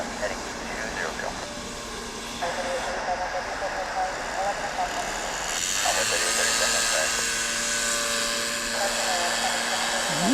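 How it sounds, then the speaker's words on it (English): A jet airliner engine roars near the runway at DFW International Airport on a plane-spotting morning, a loud, steady broadband rumble that swells and grows louder in the second half. "Listen to that engine roar."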